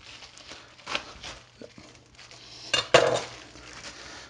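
Pork placed into a slow cooker pot, heard as a few soft handling thumps and rustles followed by two sharper clanks of the pot and utensils, close and fairly quiet.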